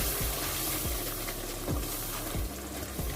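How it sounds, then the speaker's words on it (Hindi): Masala with red chili powder frying in a pan: a steady soft sizzle with a few sharp stirring scrapes spaced about every half second to second, quiet and close with no talking. "अभी हम इसको अच्छे से भून लेते हैं"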